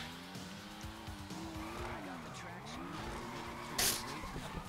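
A car skids out of control in GTA V, its engine whining and tires squealing with wavering pitch, plus a sharp burst of noise near the end. Voices talk over the driving.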